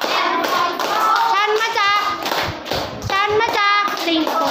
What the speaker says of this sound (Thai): เอาไวๆไปปรบมือให้ครูด้วย